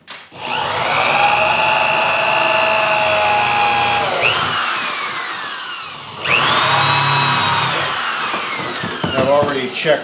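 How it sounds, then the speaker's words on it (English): A power drill whines loudly as it bores through plywood in two long runs with a short pause between, ending with brief spins and rattles. "trying to keep sight down your drill bit"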